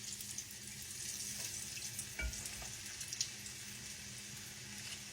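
Food fries in a small skillet with a steady, faint hiss and crackle, a couple of light clicks cutting through the quiet background.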